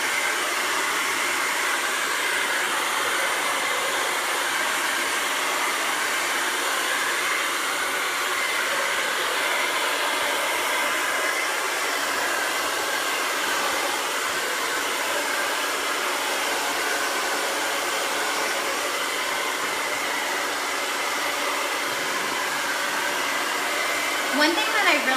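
A hair dryer blows continuously at close range during a salon blow-dry, a steady airy whoosh that holds evenly for the whole stretch with no talk over it.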